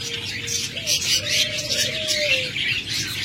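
Pair of large breeding lovebirds calling close by, bright high chirps and squawks layered over a faint thin whistle, continuous and busy throughout.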